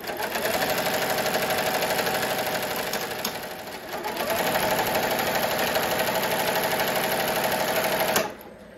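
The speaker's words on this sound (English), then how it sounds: "the machine is going to keep going nonstop until it either has an error, runs out of bobbin, or you stop the machine" A Barudan embroidery machine stitches on socks in a steady, loud, rapid mechanical chatter that runs continuously, dips briefly midway, then cuts off near the end.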